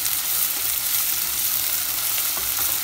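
Chopped onions sauté in a hot pan for a vegetable curry, giving a close, steady sizzle and crackle with faint stirring scrapes and no voices.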